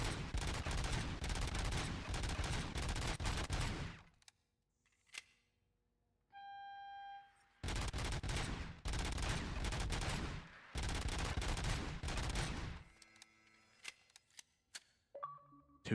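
Rapid automatic gunfire from the RoboCop: Rogue City video game, with loud sustained bursts repeating in long strings and separated by short quiet gaps where faint game tones and clicks sound.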